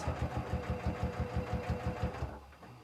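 A sewing machine with a quilt binder attachment runs fast and steady while stitching quilt binding, its needle thumping in an even rapid rhythm close up, then slowing and stopping near the end.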